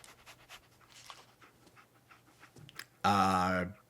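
The dog Dogmeat in the video game Fallout 4 pants in quick rhythmic breaths, close and clear, then lets out one loud sustained whine near the end.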